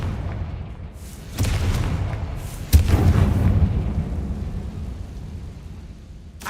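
A Confringo fire spell explodes in the video game Hogwarts Legacy, two heavy booms about a second apart, each followed by a rumbling tail that slowly fades.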